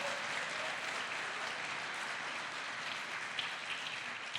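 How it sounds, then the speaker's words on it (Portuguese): A church congregation applauds during a worship service, a steady, dense wash of many hands clapping at once, continuous and moderately loud, sounding like rain across the full length. "Aplauda o Senhor."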